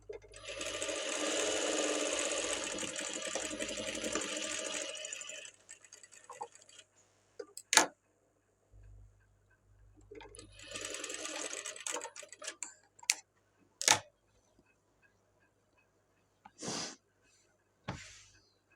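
A sewing machine stitches a blouse in bursts, a fast whirring run followed by pauses, a second run, and scattered clicks and knocks from handling the fabric and machine.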